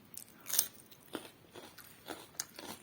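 Close, crisp crunches as teeth bite into a fresh homegrown cucumber, a few sharp bites followed by soft chewing in a quiet room.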